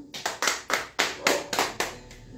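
Church congregation clapping in praise, about nine sharp, fairly even claps in a steady rhythm, close and loud, with no talk.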